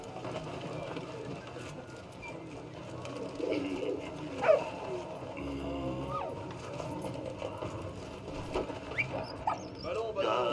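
Pigeons coo softly again and again in the video game Valiant Hearts, mixed with low game ambience and occasional sharper calls, while a person talks over them.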